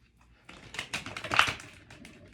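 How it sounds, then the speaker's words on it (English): New tarot cards being shuffled by hand, a quiet run of crisp, rapid riffling clicks that builds to a brief louder flurry and then trails off, with no talking. "These cards are so hard to shuffle"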